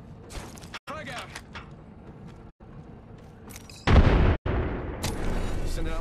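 A frag grenade detonates in a ranked video game match, a loud booming burst about two-thirds through, following clicks and mechanical game sounds with brief silent gaps.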